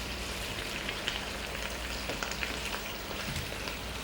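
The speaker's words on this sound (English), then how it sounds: "You see, the beef is start to cook now." Beef for a Thai stir-fry sizzles in a hot pan with a steady, close crackle and scattered sharp pops from the spitting fat, no voices over it.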